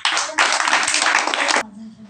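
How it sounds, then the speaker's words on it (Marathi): Children clap their hands together in a quick burst of dense, uneven claps lasting about a second and a half, up close in a room, before it cuts to near quiet. "टाळ्या वाजवा रे."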